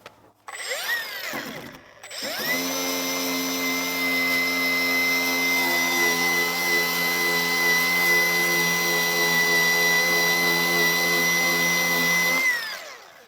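A drill fitted with an abrasive wheel strips coating off aluminum on a Smokey and the Bandit tribute truck, giving a loud, steady high-pitched whine that holds for about eleven seconds after a short stuttering start.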